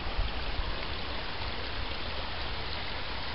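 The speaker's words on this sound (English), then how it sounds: "Creek's running nice." Water runs over rocks in a West Virginia creek, a steady, close, full rushing wash that holds constant throughout without pauses or voices.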